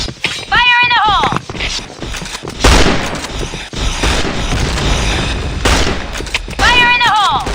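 Grenade explosions and gunfire in a first-person shooter game, loud booms and bursts layered with frantic player voices talking over the action, with short game sound effects at the start and end.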